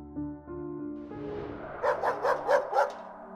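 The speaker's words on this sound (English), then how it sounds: "He suddenly started to hear Baxter growling and barking loudly" A cartoon dog gives a rapid series of five or six loud barks after a low tonal passage.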